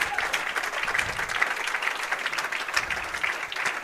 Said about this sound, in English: The hand claps right now belong to Julian Salinas.